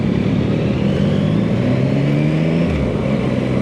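A Yamaha XSR900 motorcycle engine holds a steady, loud, close mid-range revving drone, held around 6,000 RPM, with rising harmonics and no voices.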